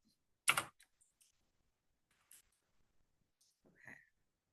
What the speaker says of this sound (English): now we are typing in here